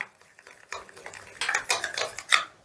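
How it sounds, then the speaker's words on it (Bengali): A spoon works oil into a creamy paste in a bowl for pea-stuffed paratha dough, giving quick scraping and clicking strokes that grow louder and busier toward the end. "এবার এটাকে বেশ ভালো করে মিশিয়ে একদম ক্রিমের মতো তৈরি করে নিতে হবে।"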